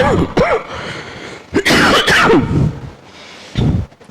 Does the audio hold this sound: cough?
yes